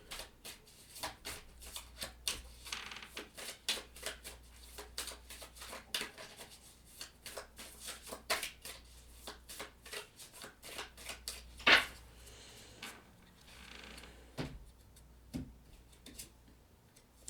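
Tarot cards shuffled steadily and close up for a long stretch, a dense run of crisp flicks and snaps with one sharper slap partway through.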